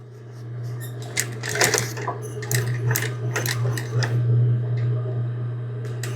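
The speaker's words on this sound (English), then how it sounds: "now I'm going to turn the corner, stitch down across that folded edge" Sewing machine stitching a grosgrain ribbon patch, turning a corner and running across the folded edge; a steady close mechanical hum with rhythmic needle ticking, rising as it speeds up, no talk.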